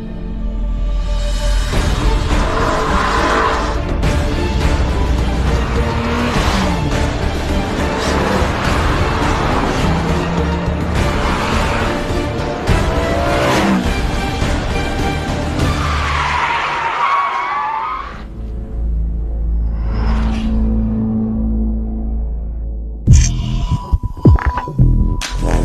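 A BMW E30 M3 drives hard: its engine throbs loudly and continuously with tires squealing and skidding, then drops to a quieter idle-like hum before a few sharp bursts at the end.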